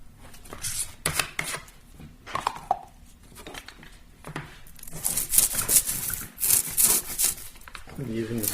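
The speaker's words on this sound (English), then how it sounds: "I'm using a squeegee to kind of move it around, make sure I get a good coverage." A squeegee spreads epoxy across a smooth surface in irregular rubbing and scraping strokes, close and fairly loud, with brief pauses between passes and a stretch of denser, hissier scraping later on.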